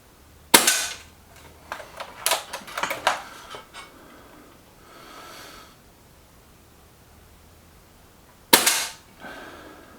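A Reximex Regime air rifle fires pellets: a sharp near crack at the start, a cluster of clicks and metallic handling sounds from cocking and loading, another sharp shot near the end, with quiet room tone between.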